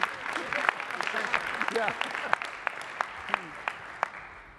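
Scattered clapping from a union convention audience at the BC Federation of Labour gathering, sharp separate claps popping through a room murmur while someone speaks briefly over it.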